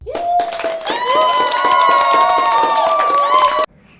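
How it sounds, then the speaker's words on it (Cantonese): A loud crowd of audience members cheering, with high excited voices holding sustained shouts over a steady patter of clapping, which then cuts off abruptly. "全場觀眾大聲喝彩。"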